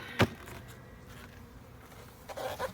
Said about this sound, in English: Noisy bees usually means no queen.